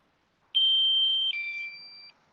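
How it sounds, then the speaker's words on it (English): Electronic beeps from a pigeon loft race timing system, one clear sustained tone followed by a second shifted tone, loud and close in quiet surroundings. "What was that beeping? I heard some beeping."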